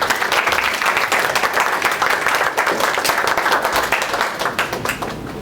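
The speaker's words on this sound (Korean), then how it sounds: "큰 박수로 환영해 주시기 바랍니다" A school audience at a Korean international school in the Philippines claps steadily, dense and sustained applause filling the room for several seconds before tapering slightly.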